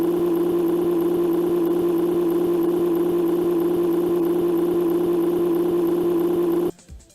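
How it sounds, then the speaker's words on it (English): A flat, droning truck engine loop from a poorly made racing video game, holding one unchanging pitch with a faint repeating pulse, loud and steady throughout, then cutting off abruptly near the end. "The engine sounds loop endlessly"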